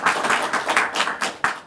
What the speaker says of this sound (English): Let's give another warm applause for Margus Yrika